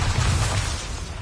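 A Bombarda spell explodes in the video game Hogwarts Legacy, one short, loud, dense burst with a low rumbling body that fades slightly over about a second.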